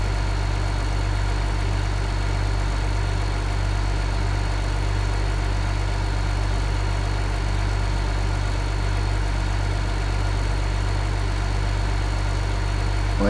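A tractor engine idles steadily in Farming Simulator 15, a constant low rumble with a faint hum above it that holds without change and with no talk over it.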